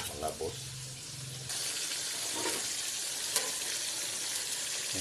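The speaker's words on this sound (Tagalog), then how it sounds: "Titingnan po natin kung ating piniprito" Fish frying in a pan for sarciadong isda gives off a steady, close sizzle and crackle throughout, with a brief clatter as a person speaks over it.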